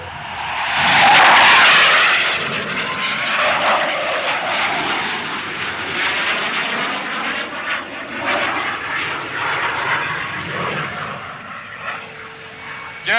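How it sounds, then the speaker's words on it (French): A fixed-wing aircraft's engine roars up loud and close, then drones steadily as it accelerates for takeoff and climbs away, fading gradually toward the end. "ça y est, Roger décolle"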